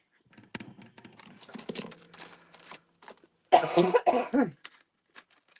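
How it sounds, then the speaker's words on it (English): Soft tapping and faint rustling are followed by a short burst of several harsh coughs up close while working with glitter and texture paste, then quiet. "I'm starting to cough again"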